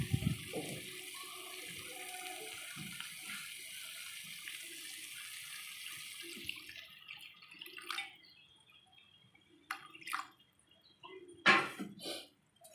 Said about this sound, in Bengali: এবার ওটা জল দিয়ে দেবো।